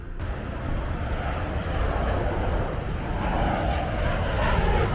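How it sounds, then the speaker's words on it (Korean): A low-flying airplane near Jeju airport roars loudly overhead at a seaside camping spot, a continuous broadband rumble that swells slightly toward the end with no talk over it. "이 지금 비행기 소리거든요."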